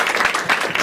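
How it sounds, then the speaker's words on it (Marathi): A comedy-show audience claps loudly in a brief dense burst of applause, a bright continuous patter of many hands with no voices standing out. "तर यशस्वीसाठी एकदा सगळ्यांनी टाळ्या वाजवा जोरदार"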